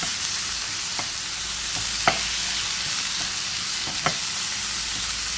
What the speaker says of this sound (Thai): ก็รวนหมูสับกับพริกกระเทียม ให้สุกเลยนะคะ